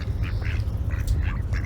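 Several ducks quack in short bursts right beside a moored narrowboat, close and fairly loud over a steady low rumble of wind or water.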